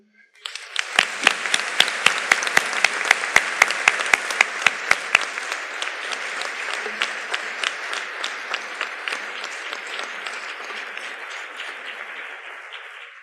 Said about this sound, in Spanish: para todos ellos quiero de verdad un aplauso